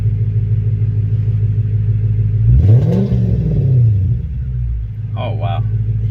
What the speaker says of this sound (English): when you give it the gas, it's not real jumpy. It goes whoom, you know, you heard it.